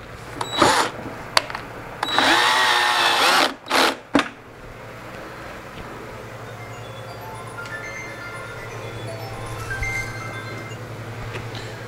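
A power screwdriver with a magnetized bit driving screws into a Technics 1200 turntable, with a few short close whirring bursts and clicks of handling, then a lower steady background hum.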